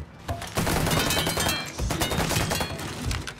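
Dense bursts of rapid machine-gun fire in Mafia 3, loud and close, with a brief lull midway before the shooting resumes.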